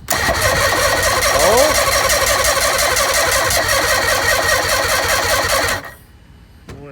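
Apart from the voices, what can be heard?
bass boat outboard engine cranking and trying to start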